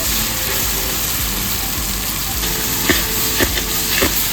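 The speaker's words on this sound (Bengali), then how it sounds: "রসুন আর আদা খুব ভালো করে ভাজা হয়ে গেছে। এবার দিয়ে দেব জিরে গুঁড়ো" Garlic and ginger paste frying in hot oil as cumin powder goes in, a steady broad sizzle with a few sharper spatters and stirring scrapes near the end, close and loud, no voices.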